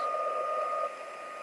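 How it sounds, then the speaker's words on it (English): A heat gun blows steadily on embossing powder, a close, even whirring hiss with a constant tone that drops slightly in level partway through, with no talking. "let's grab my heat gun, heat this up"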